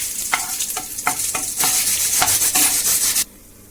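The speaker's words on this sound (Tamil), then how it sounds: "முந்திரி பருப்பை நெய்யில் ஃப்ரை பண்ணி எடுக்கிறோம்" Cashews fry in ghee in a pan while a spoon stirs them in quick, rhythmic scrapes over a bright, busy sizzle. The frying sound cuts off sharply just before the end.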